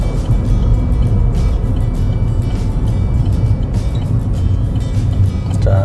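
Inside a manual car turning uphill in second gear with the clutch pressed during a driving test route, a loud, continuous engine and road rumble is heard up close, steady throughout, with no talk over it.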